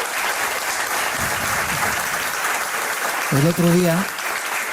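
A studio audience on a talk show applauds a guest with broad, steady clapping; near the end a voice briefly starts speaking over the fading applause.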